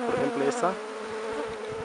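Honeybees buzz around three strong hives during a period of robbing and food scarcity after flowering has ended, a steady insect drone running under a man's speech throughout.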